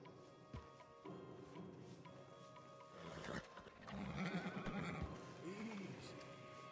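Horses being led in Red Dead Redemption 2, with a whinny and soft hoof clops over a steady outdoor ambience that swells midway.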